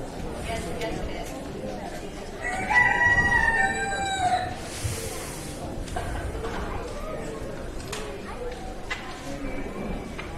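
Roosters crow and hens cluck among the large fowl classes at a county fair poultry show in O'Brien County, a loud crow rising briefly midway over steady crowd chatter and an announcer talking.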